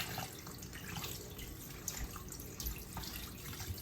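Tap water runs steadily over a raw turkey in a sink, a soft continuous splashing with faint drips, close and fairly quiet, with no voices.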